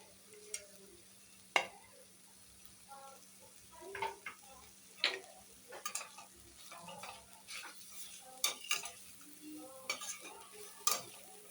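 Grated ginger and garlic fry quietly in a pan for vegetable biryani, with a soft background sizzle and a string of light ticking spoon strokes against the metal.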